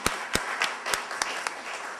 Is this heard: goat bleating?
no